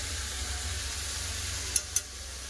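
Ground spices fry with potatoes in a pan, giving a low, steady sizzle broken by two quick, sharp clinks of a stirring spoon near the end.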